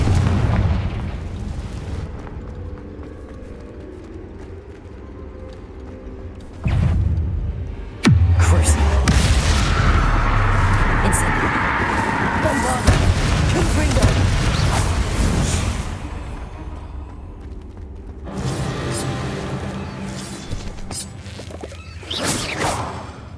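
Confringo fire spell explosions in Hogwarts Legacy: sudden heavy booms with deep rumbling blasts and crackling debris, loud and close, separated by quieter stretches of game ambience.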